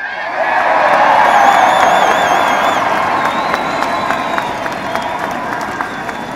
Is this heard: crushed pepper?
no